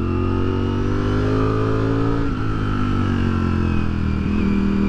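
A Ducati Streetfighter V4S Dark Stealth motorcycle riding on gravel, its engine droning loudly and steadily with smooth rising and falling revs, heard close from on board.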